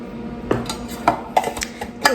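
Metal baking pans rattle and clank in several quick bursts as they are shaken and tilted to coat them with flour, with light scraping between the knocks, close by.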